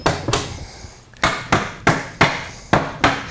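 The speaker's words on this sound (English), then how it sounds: "Now let's tap the, let me see the hammer. I'll tap it this way because it shifted back a little bit." A hammer taps the wooden seat of an Adirondack chair swing, giving about eight sharp, close knocks at a fairly even, brisk pace with no talking.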